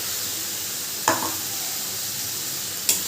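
Ginger, garlic and green chilli paste fries with onions in a pan for a Bengali boal fish curry. It makes a steady close sizzle, and two sharp spoon clinks stand out.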